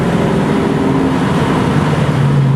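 A 1965 Ford Mustang with a 289 V8 drones steadily at highway speed, its low engine hum shifting pitch slightly over road and wind noise, with no voices.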